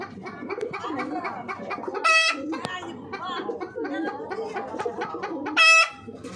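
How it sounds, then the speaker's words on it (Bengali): A large pigeon loft of around a hundred pairs of Jalali pigeons, kept alongside chickens, gives steady cooing and clucking close by while someone talks over it, with two brief loud high-pitched chirping bursts. "এখানেও আছে কবুতর এই পাশে আছে ওই যে ওখানে আছে কবুতর অনেক কবুতর এখানে প্রায় একশো জোড়া মতো আছে"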